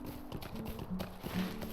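Horse hooves clip-clop in the Lord of the Rings Online game as a mount travels across the Lone-Lands, a steady rhythmic plodding with brief louder hits, mixed under faint game ambience.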